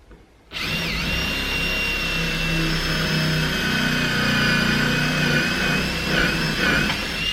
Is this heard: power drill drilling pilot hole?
yes